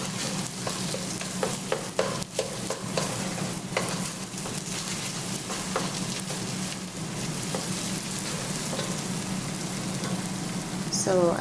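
Tomato paste fries for Ghanaian jollof rice in a pot, giving a constant close sizzle and crackle with occasional spoon scrapes and knocks against the pot, and no voices.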